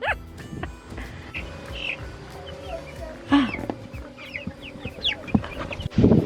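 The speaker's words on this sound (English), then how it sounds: "We just got 30 meat birds" Meat chickens on a farm cluck and chirp in a busy, overlapping jumble, close and fairly loud, with a few sharper squawks and bumps and some faint voices mixed in.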